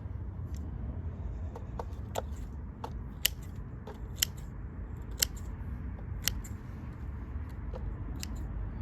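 Pruning snips trimming sugar maple roots to fit a pot, sharp crisp cuts landing roughly once a second over a steady low outdoor rumble.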